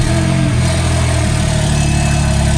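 A Porsche 911 track car's engine runs loud and close, settling from a brief rise into a steady, rumbling idle with a constant low drone and no speech over it.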